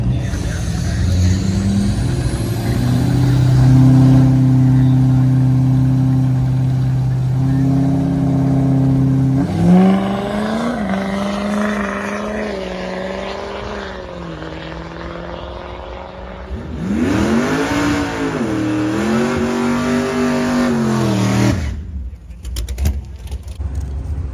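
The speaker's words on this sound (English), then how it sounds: "Logan out here running 7s on a stock turbo, fuel only, tune only L5P." A tune-only L5P diesel pickup with a stock turbo makes a drag strip pass at a truck nationals event, with a loud, droning engine note that rises and surges in a long sweep, then climbs hard again before cutting off abruptly.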